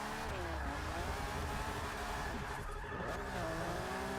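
A BMW 850CSI drifting in Forza Motorsport 6, its engine droning steadily with shifting pitch while tires squeal continuously, loud and sustained throughout.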